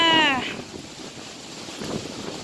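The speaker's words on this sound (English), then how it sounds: "Ooh, big wind." A strong outdoor gust of wind buffets the microphone with a low, rushing roar that swells and fades over a couple of seconds, with a brief voice at the start.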